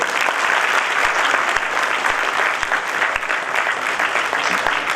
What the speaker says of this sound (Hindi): आपकी भरपूर तालियों में खुश आमदीद कहते हैं